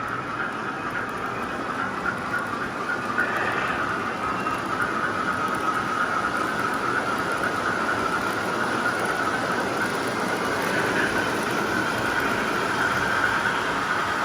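Model Alco AB locomotive pair, Santa Fe plated units, running on a home layout track: a continuous even rolling rumble with a steady motor whine and faint wheel squeal, close and constant for the whole stretch, no talking.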